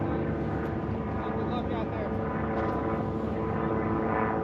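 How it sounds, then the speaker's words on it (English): Rans S7 light plane powered by a non-turbo Rotax 915 engine, a steady loud propeller drone at a STOL drag event, continuous and unbroken with a voice talking over it. "Next up here we got Hal Stockman in a Rans S7 with his version of a non-turbo 915 Rotax in it."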